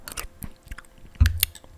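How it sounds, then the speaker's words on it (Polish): Someone eats with audible lip smacking and chewing, giving a run of short, close, wet clicks and squelches at an uneven pace, with a louder burst near the end. "I zaczyna się mlaskanie."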